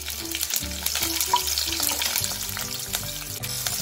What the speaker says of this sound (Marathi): यामध्ये शेंगदाणे टाकून घ्यायचे आहेत। शेंगदाणे फ्राय झाल्यानंतर